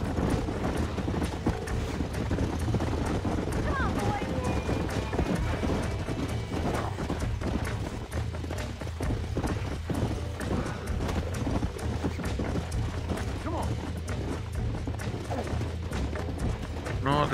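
Horse hooves gallop in Red Dead Redemption, a steady rapid clip-clop running through the whole stretch, mixed with game sounds and someone talking over it.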